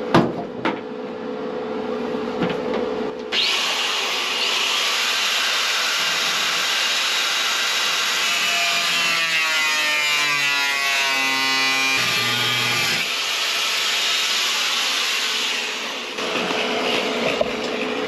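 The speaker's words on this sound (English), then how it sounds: "it's actually cutting through this steel here, so it's cutting it off" An angle grinder cuts through rusty steel body panel on a classic Holden car, a loud, steady, close-up whining roar that starts abruptly after a few seconds and runs for about thirteen seconds before fading back to quieter handling sounds.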